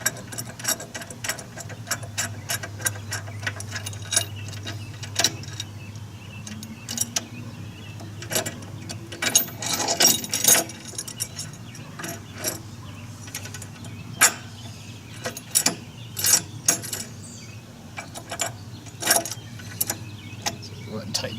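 Bolts on the mount of a 300 hp Evinrude E-Tec G2 outboard motor are tightened with a ratchet, giving a run of quick clicking bursts over a steady low hum, close and moderately loud.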